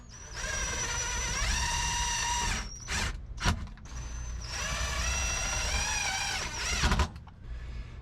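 Power drill driving self-tapping screws during an RV off-grid solar install, whining steadily with rising motor pitch on each screw, two long runs broken by short clunks and pauses, close and clear with no talk.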